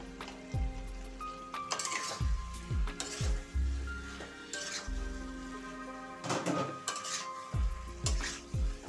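Potatoes sautéed in a frying pan for a village-style raw jackfruit curry are stirred with a utensil, producing repeated rhythmic scraping strokes over a steady sizzle, close and clear, with no talking.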